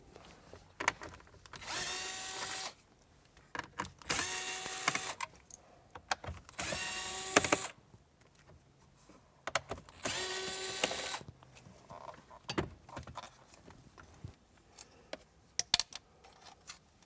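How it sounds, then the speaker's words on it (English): A power driver spins out the four screws holding the factory radio in a Jeep Wrangler JL dash, giving several short whirring bursts separated by pauses, close and fairly loud. "we can remove the 4 screws that are holding in the factory radio"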